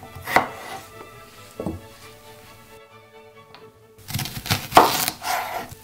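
A knife cuts thin slices of peeled potatoes on a board in short bursts of quick, crisp strokes. A brief quiet pause falls between the first cuts and a louder final flurry, all close up.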